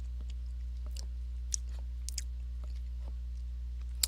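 Wet chewing and biting noises from the Reigns: Her Majesty video game, soft and close with a few sharper crunchy clicks over a steady low hum.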